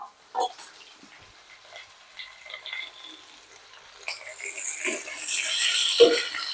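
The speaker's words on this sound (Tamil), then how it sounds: "பெரிய வெங்காயம் நிறையாவே சேர்த்துக்கலாங்க போட்டு நல்லா ஒரு வதக்கிடலாம்" Onions go into a hot pan for sautéing: after a few quiet seconds with small clatters, a bright sizzling hiss rises and holds at close range, with faint vocal sounds in the background.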